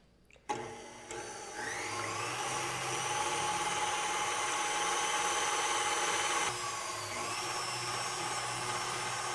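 An electric hand mixer whips meringue mixture at medium-low speed, giving a steady, close motor whine with a high buzzing tone that starts abruptly and runs continuously, with a slight shift in pitch partway through.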